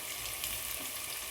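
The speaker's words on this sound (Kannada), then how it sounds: "ಅದನ್ನೆಲ್ಲ ಚೆನ್ನಾಗಿ ಕೆಂಪಗಾಗುವಾಗೆ ಫ್ರೈ ಮಾಡ್ಕೋಬೇಕು" Ingredients for a chicken dum biryani fry in a pan until golden brown, giving a steady, close, even sizzling hiss with no break and no voices.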